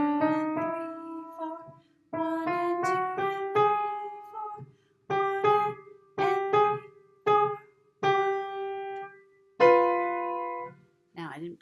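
Piano plays the introduction of the Faber Piano Adventures Level 3A piece Snowflake Rag, with a clear treble melody over steady low notes in short detached phrases separated by brief rests, played close and alone.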